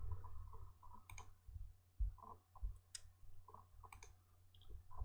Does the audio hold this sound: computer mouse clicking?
yes